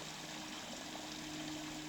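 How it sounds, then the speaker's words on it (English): A small river flows near the head of the Sturgeon in Canada on a calm, windless day, giving a steady, even watery rush with a faint low hum underneath and no voices. "Down a nice little flowing river."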